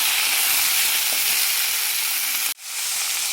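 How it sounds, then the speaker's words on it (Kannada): Onion and tomato sizzle in a hot pan while cooking a sambar, a loud, steady frying hiss that cuts out abruptly for a moment near the end, then resumes at full strength. "ಈರುಳ್ಳಿ ಫ್ರೈ ಆಗ್ತಾ ಇದೆ."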